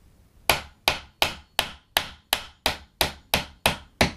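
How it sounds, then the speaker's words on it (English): Hammer blows driving nails into molding around a steel door, ten sharp evenly spaced strikes about a third of a second apart, close and loud with no talk. "Don't drive your nails all the way in."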